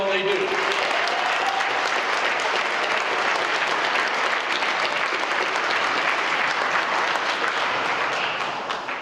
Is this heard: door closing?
no